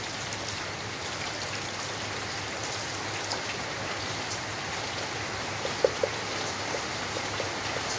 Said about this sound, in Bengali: বৃষ্টি নেমে পড়লো।